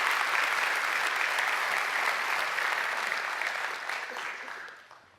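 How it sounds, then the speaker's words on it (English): Applause from a church congregation, steady and sustained throughout and tapering off near the end, with no voices over it. "Give them a round of applause"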